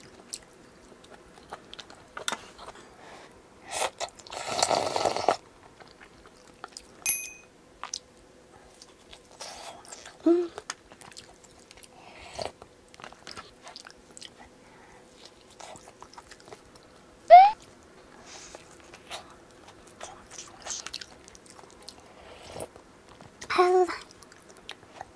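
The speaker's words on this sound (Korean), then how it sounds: "마지막 한 입. 잘 먹었습니다." Someone eats Samyang Buldak ramen, with close, soft chewing and slurping bites scattered between pauses, and speech is heard in between.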